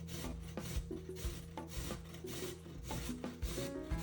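Beets being grated by hand for Ukrainian borscht, giving a steady run of close rasping strokes with a few sharper knocks and no talk.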